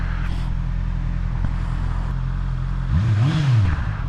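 A 2024 Honda CBR650R motorcycle engine runs steadily up close, a constant loud drone that rises into a brief rev near the end.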